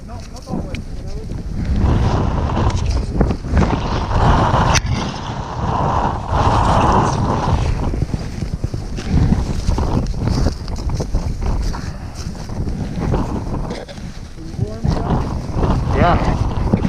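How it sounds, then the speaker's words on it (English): Strong wind roars and buffets the microphone during a blizzard on the Vallée Blanche mountain ridge, with gusts rising and falling throughout and brief voices in between. "Always windy."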